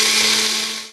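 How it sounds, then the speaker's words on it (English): A Magic Bullet blender grinds oatmeal ingredients in one steady, loud, high-pitched whirring burst that runs about a second and then winds down, with no voices. "I'm just going to put this in the Magic Bullet"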